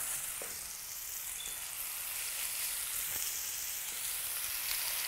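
Burgers frying in a little oil in a pan, giving a steady close sizzle and crackle that carries on evenly throughout with a few soft pops, and no talking.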